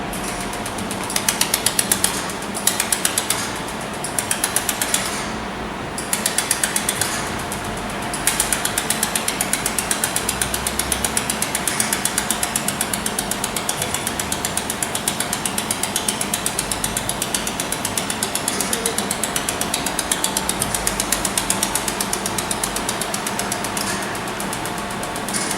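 An automatic welding machine with a CNC workbench runs steadily, giving off a continuous mechanical clatter with rapid ratcheting ticks and a few brief pauses in the first seconds, loud and close.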